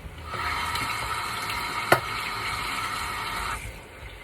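Hands rinsing something under a running kitchen tap: a steady close hiss of flowing water for about three seconds with one sharp clink partway through, then the flow stops.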